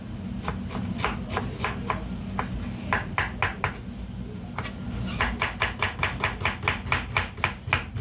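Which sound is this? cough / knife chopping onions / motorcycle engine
knife chopping onions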